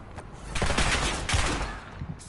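A brief, loud burst of automatic gunfire in Warzone, a dense clattering volley that swells and fades within a couple of seconds.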